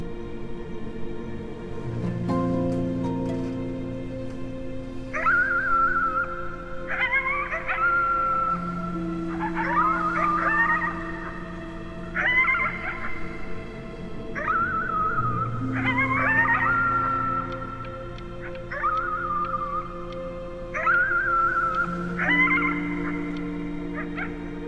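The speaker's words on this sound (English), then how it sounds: "You howled at the moon at the top of your lungs." In the video game Before Your Eyes, a dog howls at the moon in repeated rising wails over a sustained musical backing, carrying on for about twenty-five seconds with no talk.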